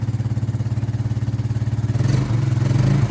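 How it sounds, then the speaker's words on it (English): Small engine of a 1985 Suzuki QuadRunner 230 ATV idling with a fast pulsing putter, then revving up louder and rougher near the end, close by. "Give it a couple revs, Graydon."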